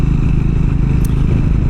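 A Triumph Scrambler 400X motorcycle in third gear on an off-road canyon trail makes a loud, close, steady engine drone mixed with wind buffeting and gravelly rumble, without a pause.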